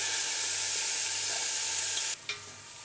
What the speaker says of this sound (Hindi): यहाँ हमने 2 टेबलस्पून ऑयल को गर्म कर लिया है। अब हम इसमें प्याज डाल देंगे।